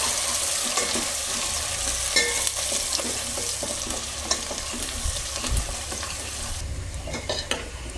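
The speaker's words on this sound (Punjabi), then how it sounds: "ਹੁਣ ਆਪਾਂ ਪਿਆਜ਼ ਭੁੰਨਾਂਗੇ" Onions frying in a pan with a steady sizzle while a utensil stirs and scrapes repeatedly against the metal, close and fairly quiet, with no speech.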